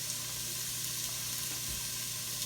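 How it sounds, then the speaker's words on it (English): Regular white onions sauté in a pan, a steady close sizzle and hiss that holds evenly with no talking. "I got some onions here. I'm going to saute off here."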